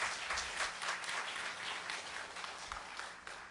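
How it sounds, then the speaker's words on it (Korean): Church congregation claps together in a steady, dense burst of applause, moderately distant and reverberant, with no talking over it. "이때는 박수로 영광을 주님 앞에 돌려"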